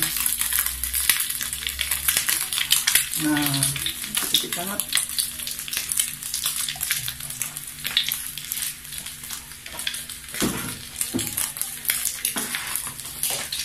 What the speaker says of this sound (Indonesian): tambahkan sedikit banyak lagi ya untuk goreng perencasnya